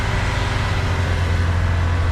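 A Suzuki Carry running on an LPG conversion holds a steady 3000 rpm during a vehicle inspection emissions check, a constant close engine drone with a low hum and no talk.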